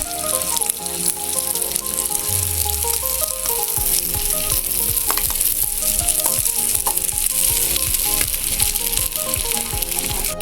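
Rice is stir-fried in a pan with fried egg for egg biryani, giving a loud, continuous sizzle and hiss with rapid, rhythmic scraping and tossing close by.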